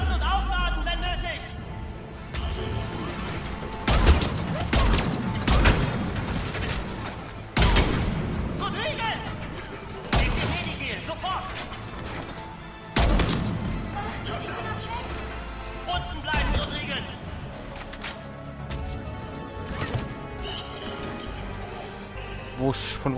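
Gunfire and heavy booms ring out in Mass Effect 3 combat, repeated sharp blasts and bursts of shooting hitting every few seconds over a busy battle soundtrack, with a person talking throughout.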